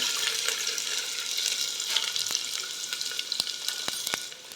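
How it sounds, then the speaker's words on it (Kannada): Chopped medium-size onion frying in heated oil for tomato bath, a steady close sizzle with a few sharp crackles and pops near the end, no voices. "ನೋಡಿ ಎಣ್ಣೆ ಸ್ವಲ್ಪ ಕಾದಿದೆ ಇವಾಗ ನಾನು ಒಂದು ಮೀಡಿಯಂ ಸೈಜ್ ಈರುಳ್ಳಿನ ಹೆಚ್ಚಿಟ್ಕೊಂಡಿದ್ದೀನಿ ಅದನ್ನು ಸೇರ್ಕೊತಾ ಇದ್ದೀನಿ"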